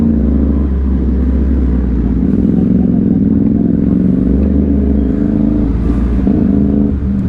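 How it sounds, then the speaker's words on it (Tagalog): The San Pablo Big Bike Group's big motorcycles roll through Liliw, Laguna. Loud, close engines rumble and rev continuously as the bikes pass, with no talking. "San Pablo Big Bike Group po ay dadaan lang sa Liliw."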